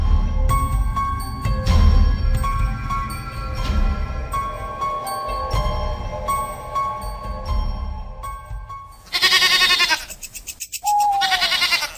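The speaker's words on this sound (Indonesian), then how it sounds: "Fauzan datang sekitar pukul 3 dini hari dengan membawa 2 ekor kambing." Two goats bleat near the end in loud, wavering cries, following a stretch of steady background music.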